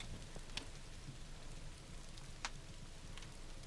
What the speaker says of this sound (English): So let's head out in the rain.